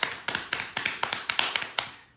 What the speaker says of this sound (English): When she's close to the secret spot, we're going to make this sound on our thighs